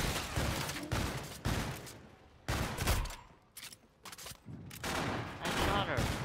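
Bursts of gunfire from a zombies mode in Call of Duty Infinite Warfare, loud and rapid, coming in repeated volleys separated by brief pauses, with players talking over the shooting.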